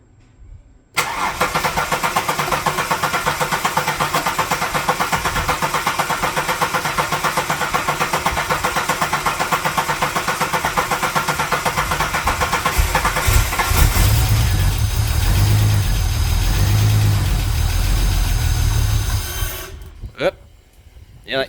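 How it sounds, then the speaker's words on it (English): A Holden VY Calais running on E85 cold-starts and settles into a loud, steady idle that runs for most of the stretch, with a deeper rumble of throttle blips near the end before the engine stops. "Just cold start, E85, just give it some throttle"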